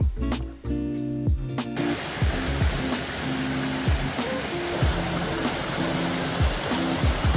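Pabatlag Falls in Tanay pours as a steady, loud broadband rush of falling water, with intermittent tonal sounds layered over the roar.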